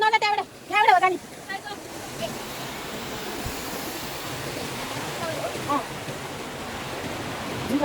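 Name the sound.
stream water flowing near a village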